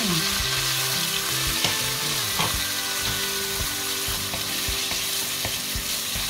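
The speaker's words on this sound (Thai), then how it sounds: "เราจะทำการผัดไปเรื่อย ๆนะคะ" Minced shrimp and pounded young tamarind chili paste stir-frying in hot oil, a steady loud sizzle broken by repeated scrapes and clacks of a utensil working the pan, with no talking.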